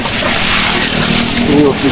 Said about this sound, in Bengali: বৃষ্টি হইতেছে বাইরে।